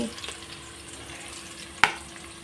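Kohlrabi, carrot, potato and beans go in with onions already frying in a pan for vegetable palav, and a continuous moderate sizzle plays, with one sharp clink partway through.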